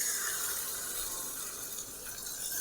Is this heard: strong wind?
no